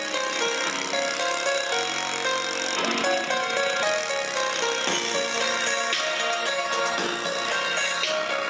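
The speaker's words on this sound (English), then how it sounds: "They're only rattling because the voice coils are slightly rocking side to side with no suspension." A Grundig 4 inch car speaker with worn-out foam surrounds plays music while buzzing and rattling from its loose cone, a continuous distorted tone over the track with no speech.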